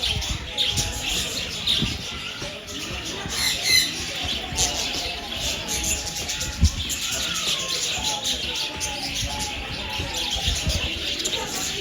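Exotic birds chirp and tweet continuously at an open bird farm in Yercaud, with scattered calls and a pigeon-like coo among them, fairly close and busy throughout.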